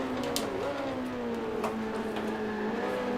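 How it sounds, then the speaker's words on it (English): A Matra F2 race car engine whines right behind the player at Zolder in Grand Prix Legends, its rising and falling pitch droning steadily and loud throughout over the player's own engine noise. "Can hear that engine right behind me, though."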